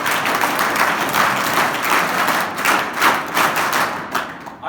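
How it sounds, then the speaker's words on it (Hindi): Audience clapping at a scouts talk, a steady dense patter of many hands that rises and falls in waves, moderately loud and with no talk over it. "तो ताली भी बजाओ।"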